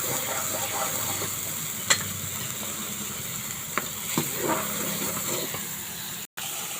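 Spices with salt and turmeric sauté in a pan, giving a soft, continuous low sizzle with a few sharp clicks of a stirring spoon against the pan and a brief dropout near the end.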